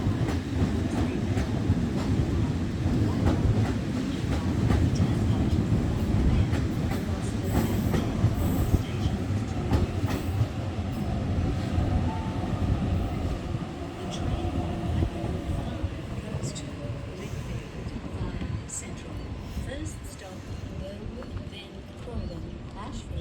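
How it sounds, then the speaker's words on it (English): A Sydney North Shore line train rolls into a station, its loud rumble with clickety-clack wheel beats and squealing wheels slowly fading as it settles. Voices are faintly audible underneath. "So there's a train coming in."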